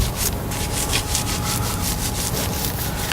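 A long brush scrubs a foamy, wet GMC Denali truck wheel in quick back-and-forth strokes, a close, steady, rhythmic rasping swish with no voices.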